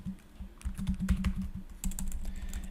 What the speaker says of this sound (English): she can just type Sherry now.